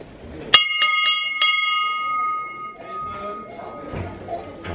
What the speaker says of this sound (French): Il y a une cloche.